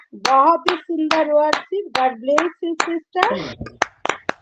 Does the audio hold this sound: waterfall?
no